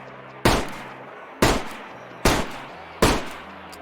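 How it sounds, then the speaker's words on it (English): Gas canisters blowing up in the video game DayZ: four loud, sharp blasts about a second apart, each with a short rumbling decay. "Gas canisters explode upon destruction."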